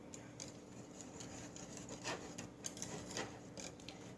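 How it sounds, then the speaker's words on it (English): A whisk scrapes steadily around a pot of milk and sugar for banana pudding on low heat, a soft continuous rubbing with faint rhythmic ticks against the metal, quiet and close, with no talking. "we're gonna keep whisking it"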